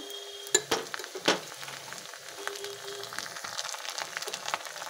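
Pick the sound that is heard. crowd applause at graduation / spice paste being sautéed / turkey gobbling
spice paste being sautéed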